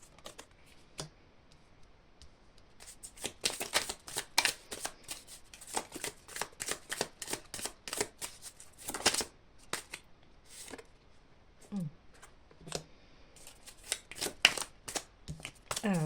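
Tarot cards being shuffled for a reading: repeated crisp riffling and flicking bursts with short pauses between them, close and moderately quiet, with occasional brief soft talk.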